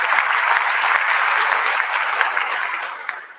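Audience applause at a school staff end-of-year celebration, a steady burst of many hands clapping close and loud, tapering off toward the end.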